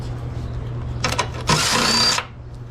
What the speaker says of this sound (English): with a 10mm bolt socket, we're going to remove this bolt